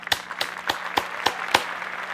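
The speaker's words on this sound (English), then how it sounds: "we send you a virtual round of applause" A slow, sparse handclap at an awards presentation for the EcoCAR Mobility Challenge: about six crisp, evenly spaced claps, moderately quiet, with no voices.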